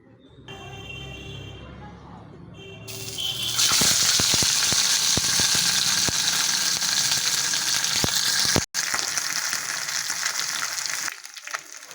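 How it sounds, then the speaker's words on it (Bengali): Pieces of rohu fish fry in hot oil in a pan, a loud continuous sizzle with crackling pops that rises sharply after a quieter start and keeps going, with a brief break near the end. "মাছ ভাজা হয়ে গেছে"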